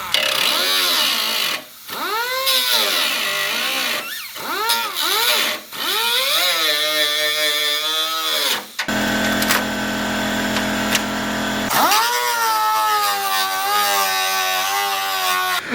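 Power tool cutting away part of a Duraflex Chargespeed widebody front fender and bumper on a Lexus IS300: loud, wavering buzzing bursts with pitch sweeps as the tool loads and frees, broken by short pauses and a steady grinding stretch.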